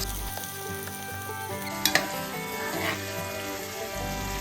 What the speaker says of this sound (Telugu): తర్వాత మనం ఉల్లిపాయ ముక్కల్ని ఈ విధంగా వేసుకోవాలి.